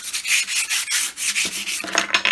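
Steady back-and-forth rasping of sandpaper on a wooden Adirondack lawn chair part, close up, in quick repeated strokes with no talking.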